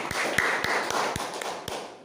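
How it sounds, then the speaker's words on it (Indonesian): A church congregation at a Sunday service clapping hands together in a steady, rhythmic beat over a wash of crowd noise, moderately loud and close, fading slightly at the end. "Tepuk tangan dulu bagi Tuhan."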